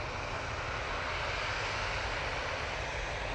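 TUI airliner at Manchester Airport, a steady distant jet engine roar, broadband and continuous, heard alone with no talk over it.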